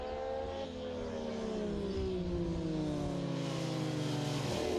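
Guy Martin's racing motorcycle at the Cookstown 100 road race revs hard and steady above 4,000 rpm, its pitch sliding slowly downward as it holds a loud continuous drone under constant crowd or track noise.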